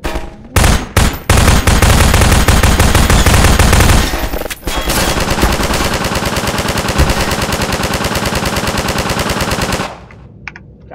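Sustained, loud automatic gunfire from a video game playtest, rapid bursts running almost continuously for about ten seconds before cutting off, with dense overlapping shots and no talk.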